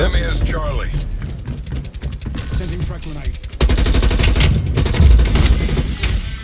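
M4 rifle fire in Call of Duty Black Ops Cold War multiplayer: sharp shot bursts and clicking weapon mechanisms, then a loud sustained volley in the second half, with a voice speaking during the shooting.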